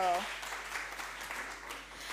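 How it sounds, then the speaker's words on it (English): An audience at a morning panel discussion applauds in a steady wash of clapping that fades slightly toward the end, right after a brief voice. "So you can clap, clap, clap for me, please."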